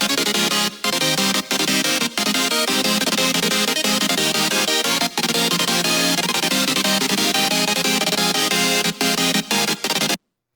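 Happy hardcore synth chords built on a square-wave sub and white noise, playing loud and continuous with brief rhythmic dropouts before a sudden stop near the end.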